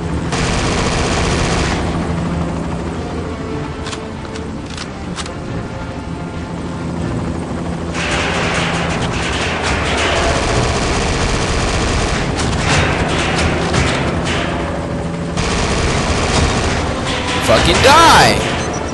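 Helicopter rotor and engine roar mixed with bursts of gunfire and explosions in the Quantum of Solace 007 video game, loud and continuous throughout, with shouted talk over the action.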